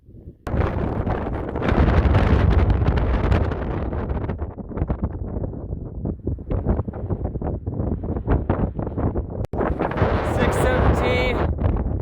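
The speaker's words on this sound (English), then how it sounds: "The wind is freaking ripping, and we are on the summit of Blanca Peak" Strong wind roars across the summit of Blanca Peak, buffeting the microphone with loud, sustained rumbling gusts; a person talks over it.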